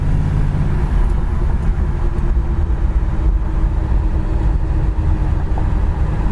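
1964 Chevrolet Impala being driven, a steady low engine and road rumble heard from inside the car, constant and fairly loud with no talking.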